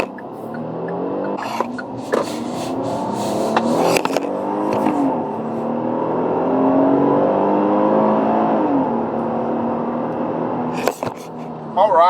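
A 2019 Kia Sorento LX with a V6 engine and all-wheel drive accelerates in sport mode on a road, the engine note climbing steadily through gears, heard from inside with a few clicks and a brief voice near the end.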